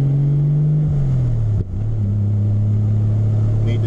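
A Toyota MK3 Supra Turbo engine drones at a steady pitch, dips briefly as the gear pops out of third, then settles back into a constant hum, close and loud.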